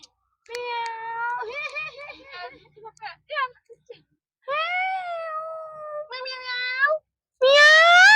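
A cat meows repeatedly in long, drawn-out, wavering cries with short pauses between them, close and loud.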